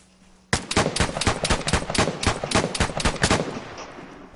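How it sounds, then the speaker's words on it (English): Rapid automatic gunfire in a video game, a single sustained burst of sharp, evenly spaced shots that starts abruptly after a quiet moment and runs steadily for several seconds, close and loud. "Bro, he's shooting the bush."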